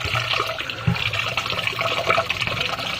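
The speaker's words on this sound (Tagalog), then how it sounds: "Tapos, lagyan ulit ng tubig." Water pours from a tap into a pot of rice being prepared for cooking, a continuous close splashing and trickling fill with no talking.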